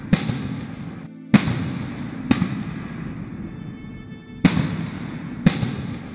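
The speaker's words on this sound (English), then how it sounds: "look at those explosions" Five sharp explosion blasts in the Roblox game Piggy as a boat sinks, irregularly spaced over a low continuous rumble, each bang sudden and loud with a short decaying tail.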